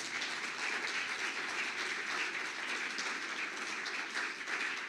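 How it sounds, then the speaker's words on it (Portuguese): A church congregation at a Portuguese-language service applauding: dense, continuous clapping from many hands that holds steady for several seconds without a break. "aplauda Jesus por isso"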